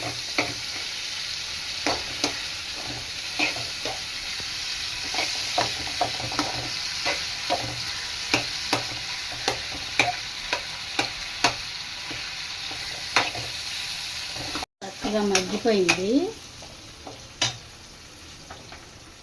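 Tomatoes frying in a pan for tomato chutney, a steady close sizzle broken by regular scraping strokes of a stirring spoon, with a brief spoken word and a short clatter near the end.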